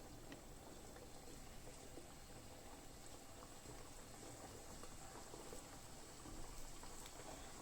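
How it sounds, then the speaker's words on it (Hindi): A piece of mathri dough sizzles in hot oil over a low to medium flame, a steady, fine bubbling crackle that stays even and close throughout. "अगर ऐसे बबल्स निकल रहे हो डो डालने से तो इसका मतलब वो तैयार है।"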